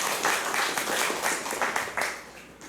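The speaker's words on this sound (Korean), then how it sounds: "박수 한번 보내주시죠" A church congregation stands and applauds departing missionaries during a Sunday worship service, a full roomful of clapping that swells and then tapers off near the end, with no talk over it.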